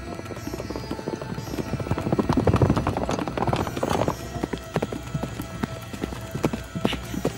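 Rhythmic hoofbeats of a horse moving quickly, fairly loud and close, a steady clattering pattern with faint background noise.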